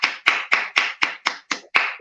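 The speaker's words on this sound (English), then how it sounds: "Go on, clap it up for me." Eight sharp hand claps in a steady, even rhythm, close and loud, with brief silences between them and no talking.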